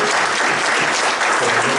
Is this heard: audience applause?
yes